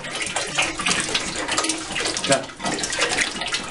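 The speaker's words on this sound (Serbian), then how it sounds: "Kolega sad znači sipa litru Baikala i to je to." A litre of liquid Baikal preparation is poured into a barrel, probably for bee feed syrup, making a steady, close gushing splash that runs throughout with little variation.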